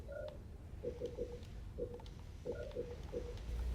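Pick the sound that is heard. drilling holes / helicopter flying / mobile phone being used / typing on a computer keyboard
mobile phone being used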